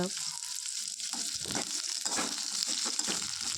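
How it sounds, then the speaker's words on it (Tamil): Onions sautéing in a pan make a steady, dense sizzle up close, with soft irregular scraping as they are stirred. "அதுக்கு நல்லா வதக்கி விடுங்க கொஞ்சம் கலர் சேஞ்ச் ஆகணும் அது வரையும் நல்லா கிளறி விடுங்க"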